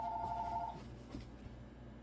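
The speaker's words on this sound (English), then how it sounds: "Had a phone call to take." A telephone rings briefly at the start, a short steady electronic tone over a low room hum, then fades into quiet background noise.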